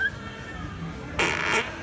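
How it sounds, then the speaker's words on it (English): Fart sound effects played from a phone app, a short raspy burst under a noisy room, with a voice nearby. "Here's Fart Sounds."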